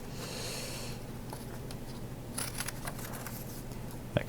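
Scissors snipping through paper to cut out a paper yak's legs, a few quiet close cuts and rustles against low background hum.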